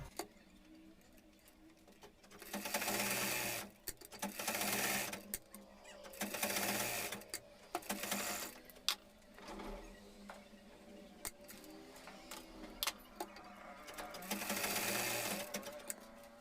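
A sewing machine stitches blouse breast cutting onto its lining in several separate bursts of steady, rapid running, with quiet pauses between each run as the fabric is repositioned.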